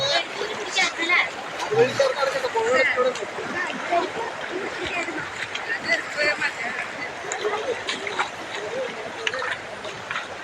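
Rushing floodwater flows from the overflowing Peechi dam, a continuous churning, splashing roar nearby, with people talking loudly over it throughout.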